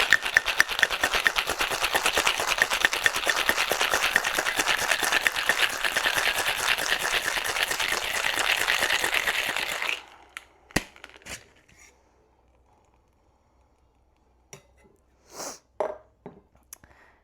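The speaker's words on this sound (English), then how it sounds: "Then we're going to shake for another about 10 seconds just to emulsify, to chill down the cocktail." A tin cocktail shaker full of ice is shaken hard for about ten seconds, a loud rapid rattling of cubes, then stops, followed by a few sparse clinks and taps.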